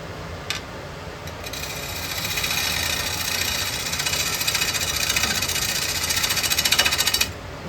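A smaller bowl gouge with a 40/40 grind cuts wood spinning on a lathe across rough, split grain, producing a continuous scraping roar with a faint rhythmic chatter that grows stronger toward the end before stopping abruptly.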